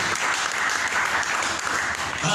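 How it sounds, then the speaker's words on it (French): A church congregation applauds during a worship service, dense, steady clapping filling the room loudly and continuously. "Applaudissons notre Dieu."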